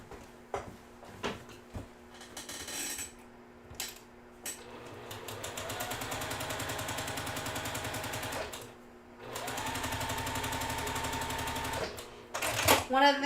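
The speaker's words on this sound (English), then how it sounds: "And then I'm going to essentially sew all the way down." Sewing machine stitching fabric pieces together along raw bias edges for a quilt block, a steady close whirring hum in two long runs with brief stops, while a voice talks between and over it.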